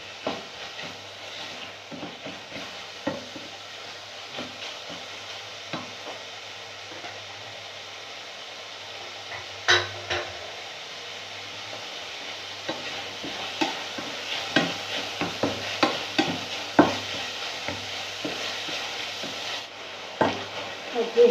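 Chicken and onions, with garlic, sizzle steadily in a pan while a utensil scrapes and stirs them in irregular bursts that grow busier toward the end.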